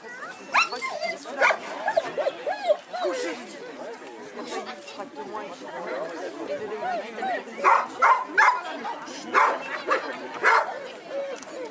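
A pack of family dogs barks, yips and whimpers in excited bursts, close and loud, mixed with lively chatter from people nearby.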